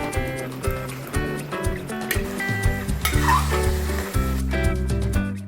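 Chicken curry cooking over a high flame, with a steady sizzle and periodic scraping stirs of a spoon in the pan, close and fairly loud, while music plays along underneath.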